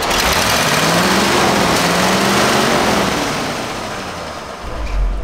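A car engine being cranked on fuel poured down the carburetor catches and roars loudly and continuously at high revs, then eases slightly near the end, with no one talking.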